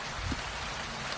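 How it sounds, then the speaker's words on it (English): Rain falling at a lakeside campsite on Tahkenitch Lake, Oregon: a soft, even patter of drops on surfaces, faint and steady, with no voices. "Then later the wind came up and the rain came."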